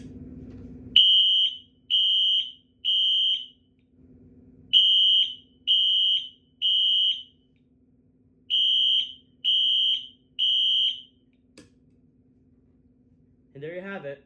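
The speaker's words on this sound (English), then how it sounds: "That is the Siemens ZH-MCR." Siemens ZH-MCR fire alarm horn blaring very loud in three groups of three long, even, high-pitched tones separated by short pauses, a steady temporal pattern with a faint low hum underneath and brief noise at the start and end.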